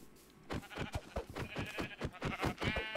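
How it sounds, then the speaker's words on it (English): Several sheep bleat in quick succession in the Minecraft video game, a dense run of nasal, wavering calls that overlap and repeat closely after a brief quiet start, with no talking. "Oh, there's another sheep."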